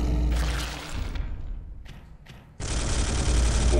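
Bolter gunfire in the Space Hulk game: a dense, loud burst of heavy shots, a brief lull with a couple of scattered bursts, then another sustained roar of fire.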